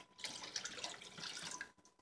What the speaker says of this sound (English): Pour that right in there so I have a little more rinse water.